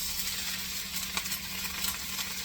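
Steady hot sizzling of pepper-crusted salmon searing skin side down in a smoking-hot pan, a continuous close crackle with an occasional soft scrape.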